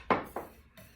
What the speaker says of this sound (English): Usually for the first third, I'll use my whisk